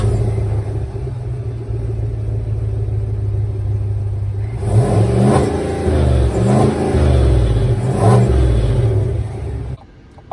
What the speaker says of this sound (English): we are going on throttle in this 2021 Yukon XL Denali